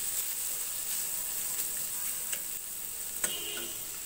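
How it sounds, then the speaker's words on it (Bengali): Pumpkin pieces frying in a pan with garlic, onion and sliced green chili give a steady, soft sizzle, with a few faint clinks and taps from stirring. "একটু ভাজা হবে, সাথে রসুন আছে, পেঁয়াজ আছে, আর কাঁচামরিচ ফালিও দিয়ে দিলাম"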